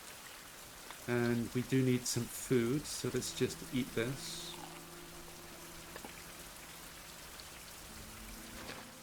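Steady rain falls in the survival game Survival Fountain of Youth, a soft constant hiss running beneath a voice, which talks for the first few seconds and then gives way to the rain.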